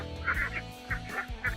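Farm ducks at a riverside poultry farm with a pond give about six short, nasal honking calls in quick succession, fairly close over a faint background hum.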